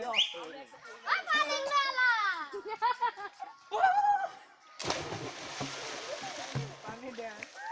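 Children shout and chatter, then jump together into water with a loud, broad splash that churns on afterward.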